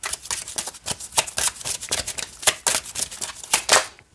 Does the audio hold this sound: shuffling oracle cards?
yes